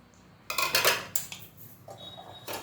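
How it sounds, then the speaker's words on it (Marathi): A pressure cooker is lifted off the stove, giving a few close metallic clanks and knocks of pot against burner in short bursts with quiet gaps between them. "इथे आता कुकर खाली घेतलेला आहे"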